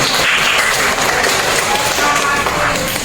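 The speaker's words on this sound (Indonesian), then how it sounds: "Yuk, tepuk tangan untuk teman-teman kita yang hari ini sudah baik dalam bertugas." A group of schoolchildren claps together, a dense, loud, continuous patter of hands throughout, with some voices mixed in underneath.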